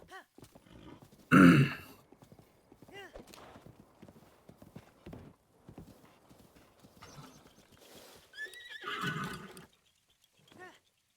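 In Breath of the Wild, a horse whinnies loudly, then hooves clip-clop at a steady pace while someone talks over it, followed by another whinny.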